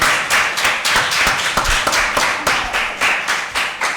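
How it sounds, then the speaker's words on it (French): Congregation clapping at a French-language church sermon, a dense burst of many hands applauding steadily and fairly loud for several seconds, with no voices over it. "Applaudissements."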